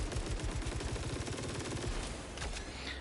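Power weapon firing in the video game Saros, a dense rapid stream of booming shots for about two seconds, then a quieter tail with a brief higher mechanical sound, no voices present.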